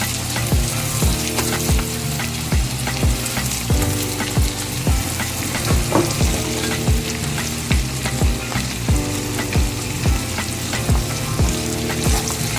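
Carrots sautéing with salted onions in a hot cast iron pan give a loud, dense, continuous sizzle and crackle, with rhythmic metallic clinks of stirring throughout and no voices.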